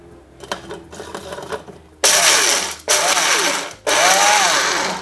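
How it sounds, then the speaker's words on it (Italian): Some light handling noises, then three loud bursts of a whirring mini hand blender grinding pine nuts, each revving and cutting off abruptly. "Mini pimer alla mano e andiamo a frullare."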